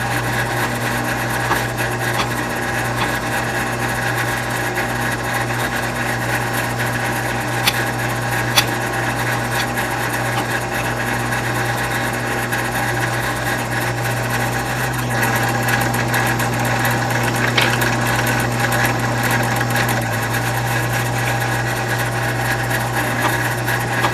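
A power drill's motor hums continuously and evenly while drilling holes in CPVC pipe, close and fairly loud, with faint clicks and no speech.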